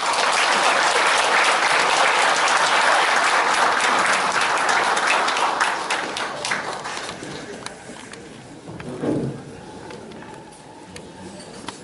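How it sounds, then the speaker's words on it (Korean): Warm applause from a lecture audience at a CEO forum in Gumi, Korea, welcoming a professor to the stage; dense, loud clapping for about six seconds, then thinning and fading to scattered claps. "뜨거운 박수로 모시겠습니다"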